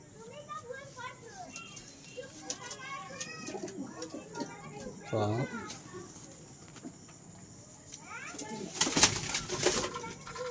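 Pigeons at a home loft coo in soft, rolling repeated calls across the scene, with some louder flutters and bursts near the end and faint background voices.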